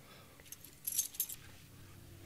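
Keys jangle briefly in a scene from Breaking Bad Season 4, Episode 6 'Cornered', as a bright metallic rattle of about a second over a quiet background.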